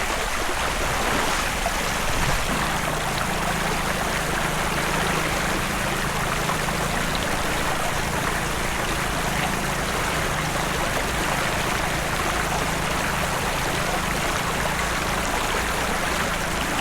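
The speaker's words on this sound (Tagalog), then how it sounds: "May malinis silang ilog." Clean river water streams along steadily, a constant broadband rush with no break, loud and close throughout, recorded on a riverside outing at General Nakar.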